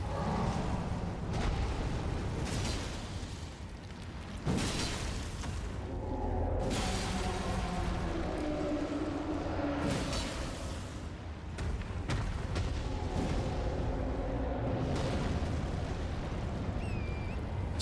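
Fiery boss fight against the Fire Giant in the video game Elden Ring, with repeated explosive bursts, roaring whooshes and crashing impacts over a dense, loud rumbling game soundtrack.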